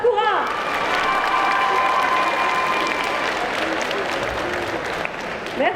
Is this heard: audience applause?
yes